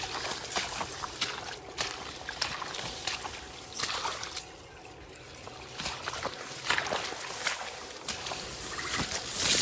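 Water runs steadily after a tap is turned on, a close, continuous splashing trickle with uneven surges and a few louder bursts, with no voices over it.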